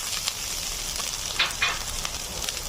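Ginger and dried chili fry in a pan with a steady, close sizzle, broken by a couple of brief crackling bursts as they are stirred.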